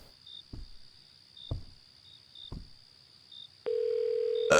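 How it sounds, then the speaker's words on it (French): Telephone call tones in a video game: a steady high electronic tone with soft periodic chirps and low thumps, then a loud sustained tone near the end. "Est-ce que je devrais appeler Dan et voir si quelque chose est bizarre?"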